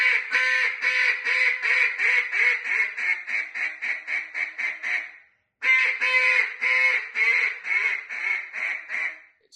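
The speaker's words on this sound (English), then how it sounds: "a hail call would start out and sound something like this." A duck call blown hard in a loud hen hail call: two long descending series of sharp, nasal quacks, each run starting loud and tapering, separated by a brief pause, close and alone with no talk.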